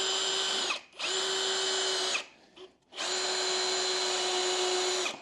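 A power drill whines loudly and close up in three long bursts with short pauses between, driving screws into the legs of a custom Lego city table.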